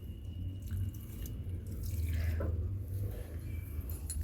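Cow dung water is poured onto a diseased hibiscus plant, giving a soft, steady splashing trickle that swells slightly midway, heard close and alone.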